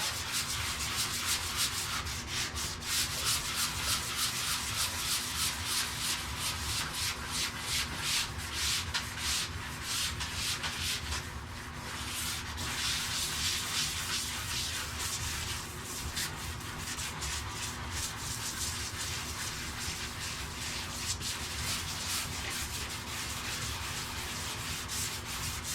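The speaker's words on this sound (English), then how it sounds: "Now I'm just gonna pass a orbital sander over that to clean it up." Orbital sander with a 120-grit disc running steadily across wood, a continuous close whirring hum with a gritty scratching texture that holds level throughout, no speech.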